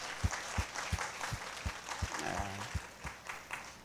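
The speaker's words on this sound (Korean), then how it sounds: "들어주신 우리 모두에게 박수를" Church congregation applauding at a Christmas service: a broad crowd clap wash with a few sharp, evenly spaced louder claps standing out on a steady beat, lasting several seconds without speech.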